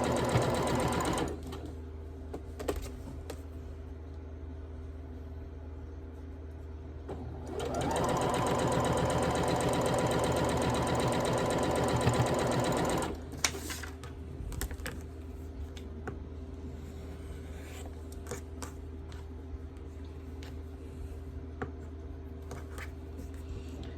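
Sewing machine stitching a quilt block for a barn star pattern, a steady mechanical whir running for several seconds in the middle, with quieter motor hum and small handling clicks before and after.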